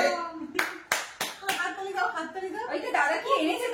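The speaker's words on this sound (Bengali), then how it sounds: "হাততালি দাও, হাততালি দাও, হাততালি দাও," Several sharp hand claps ring out in quick succession near the start, then voices talk over the rest.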